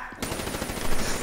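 Rapid automatic gunfire in Call of Duty: Black Ops III breaks out after a brief pause and continues loud and close as a dense, rattling stream of shots.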